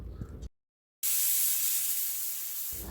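Rice cooking in a pressure cooker on a home stove gives a steady, loud hiss of escaping steam that starts abruptly after a brief silence and holds for nearly two seconds.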